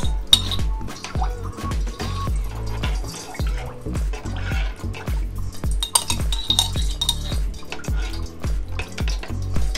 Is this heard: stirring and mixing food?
yes